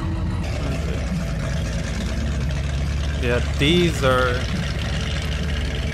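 Classic American cars idle at a cruising event in Sweden, making a steady, loud, low engine rumble throughout. A brief spoken word and some voices rise over the drone partway through.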